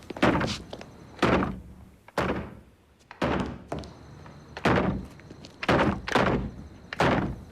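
Heavy repeated thuds against a door as it is forced open, about eight loud blows in an uneven rhythm, some crashing harder than others, close by with no talking.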